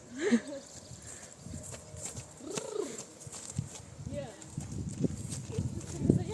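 A mare's hooves clip-clop in a loose rhythm under nearby chatter, with faint birds and pigeon cooing in the background.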